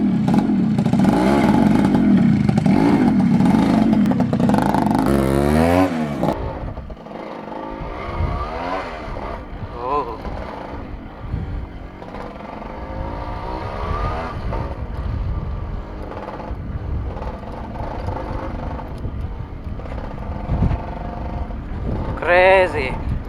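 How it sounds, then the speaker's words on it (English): A ported Suzuki Shaolin 5-speed motorcycle engine rumbles and revs close by with heavy wind buffeting, settling into a steady ride with a voice talking over it. "let me ride the motorcycle and let me share my thoughts about this motorcycle"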